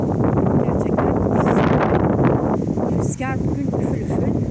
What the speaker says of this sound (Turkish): rüzgar bugün üfül üfül